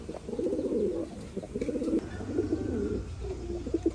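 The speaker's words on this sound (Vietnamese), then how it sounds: "Đây là chim bồ câu dòng Titan Thái siêu thịt nhé." Thai Titan meat pigeons kept as breeding pairs coo close by in repeated low, throaty bursts, with short pauses between phrases.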